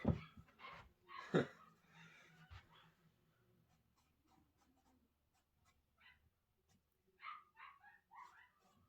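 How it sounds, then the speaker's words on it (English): A dog yips, barks and whimpers downstairs in a home, a few sharp close-sounding yelps at first followed by fainter whines and small barks, with scratchy rustling throughout. "if you can hear weird noises, my flatmate downstairs winding the dog up"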